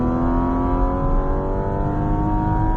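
Porsche 718 GT4RS engine accelerating hard on a racing circuit, a loud continuous rising drone with strong steady harmonics, heard from close inside the car.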